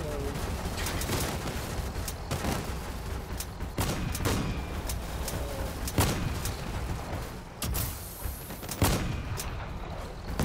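A rig fires in the Awol Clan Wars video game, producing repeated sharp gunshot bursts scattered over a dense backdrop of battle noise, fairly loud and near.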